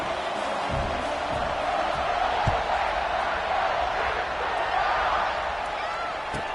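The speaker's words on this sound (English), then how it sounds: "this crowd is feeling themselves after that last drive" A football stadium crowd roars after a touchdown drive, a dense, steady wash of cheering and noise with a few sharp claps or thuds, while a commentator talks over it throughout.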